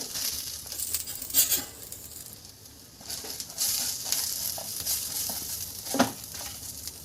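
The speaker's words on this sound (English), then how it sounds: "and now we are adding 5 garlic cloves, and one, as I mentioned earlier, 1 medium size tamarind. Just mix them well." Garlic cloves and tamarind stirred in a pan for Mangalore-style mutton sukka, with soft sizzling, scraping and patter close by, and a few brief louder scrapes standing out.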